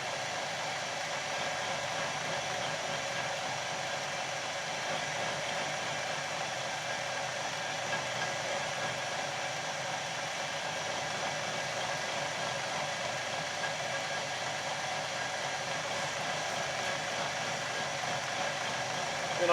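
A wood lathe spins a scrap hardwood file handle while a friction burn ring is pressed into it, giving a steady, even whirring hum with a faint rubbing hiss that holds unchanged throughout.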